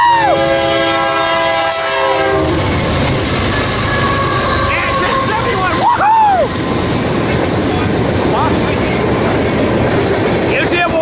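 A loud Union Pacific freight train rumbles past near Tehachapi, California, with a long multi-tone horn blast at the start, clattering wheels and brief shouts from onlookers.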